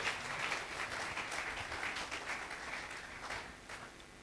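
A church congregation applauds at a fairly low level, a continuous patter of clapping that lasts throughout, with no other sound standing out.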